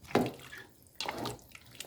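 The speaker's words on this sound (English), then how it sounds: "I'm going to add in a little bit of water also, so my meats and chicken can continue to cook." Water poured into a pot of chicken, beef and fish pepper soup, heard as two soft splashing bursts with faint dripping between them, fairly quiet and close.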